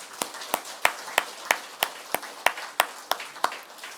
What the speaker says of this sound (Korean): 이제 우리 하나님 앞에 감사와 영광의 박수를 한번 올려드립시다